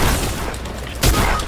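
Gunfire in the video game Fortnite, a heavy weapon firing in a dense rumbling burst that swells sharply about two-thirds through, loud and close with continuous game noise underneath.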